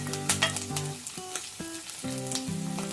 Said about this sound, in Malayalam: ഇനി അതിലേക്ക് ഇഞ്ചി ഇട്ട് കൊടുക്കുന്നു, പച്ചമുളക് ഇട്ട് കൊടുക്കുന്നു, വെളുത്തുള്ളി ഇട്ട് കൊടുക്കുന്നു.